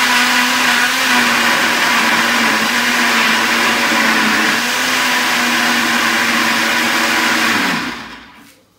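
Kitchen blender grinding onion and tomatoes, a loud, steady motor whine running for about eight seconds before winding down and stopping, with no voices.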